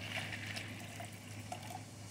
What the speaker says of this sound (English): Take the water, pour it in here.